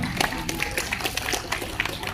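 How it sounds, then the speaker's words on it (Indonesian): Applause from the audience at a regional farmers' association meeting in Lumajang: a dense, steady patter of many hands clapping together, filling the whole moment at moderate level. "Tepuk tangan."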